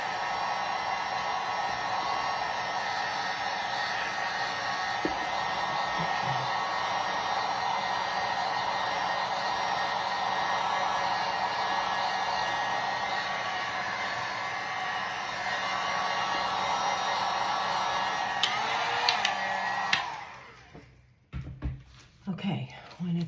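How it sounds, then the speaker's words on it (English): A heat gun blows steadily to dry freshly decoupaged seashells, a broad, even whoosh that stays loud and constant for about twenty seconds, then cuts off, leaving quiet room sounds and small clicks. "Now, I'm going to use my heat gun to speed up the process a bit,"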